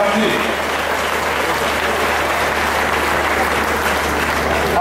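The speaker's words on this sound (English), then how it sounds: "If you want to applaud our public servants, please do so." An audience at a Lagos government address applauds public servants, with sustained dense clapping that stays loud and steady for several seconds and a faint crowd murmur underneath.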